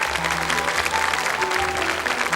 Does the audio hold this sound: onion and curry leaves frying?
no